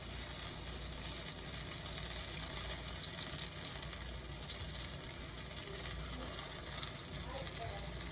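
Banana fritters frying in hot oil with a steady, dense sizzle and crackle throughout, close and even in level, with no voices over it.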